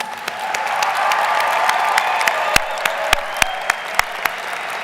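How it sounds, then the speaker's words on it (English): Broad crowd applause at a high school graduation ceremony, steady dense clapping with a few sharp, close claps standing out near the end. "let's give them one more round of applause"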